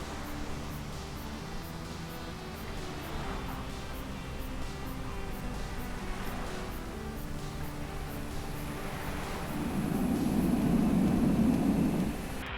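Jet airliner landing in Microsoft Flight Simulator 2020 on a very short commercial runway, a steady broad engine roar that swells louder near the end as reverse thrust kicks in, heard alone without talk.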